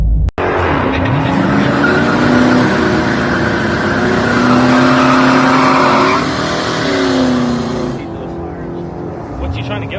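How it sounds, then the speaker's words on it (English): A swapped LS1 third-generation Camaro with a TH400 transmission roars through a loud, sustained burnout at a quarter-mile strip, engine held high and tires squealing steadily for about eight seconds before the revs drop. "still really good burnout"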